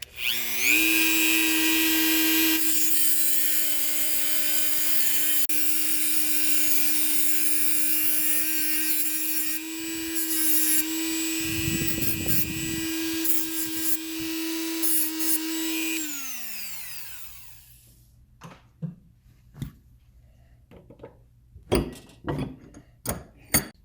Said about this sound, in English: In this case, there is one screw I'm going to have to cut.